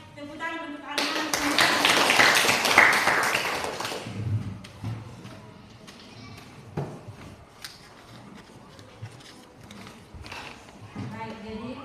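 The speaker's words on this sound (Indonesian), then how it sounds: "tepuk tangan untuk anak-anak" Children in a classroom break into a burst of applause lasting about three seconds, dense and close, before fading into scattered taps and a teacher talking.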